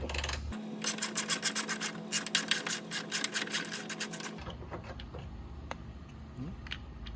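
Ratcheting wrench clicking in quick, steady strokes as it backs a 10mm bolt out of a fender bracket on a 2015-2017 Hyundai Sonata, close and moderately loud, followed by quieter handling and scraping.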